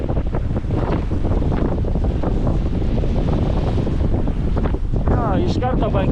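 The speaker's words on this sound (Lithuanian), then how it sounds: "labai vėjas, 22 iki 25 mazgų" Strong wind of 22 to 25 knots batters a sailboat at sea, a loud constant roar of gusts buffeting the microphone, with water rushing and a brief voice near the end.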